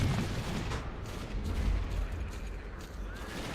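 Gunfire in the shooter game S.T.A.L.K.E.R.: Clear Sky, with dense, continuous booming shots and battle noise filling the whole stretch, loud and unbroken, and no single shotgun blast standing out clearly.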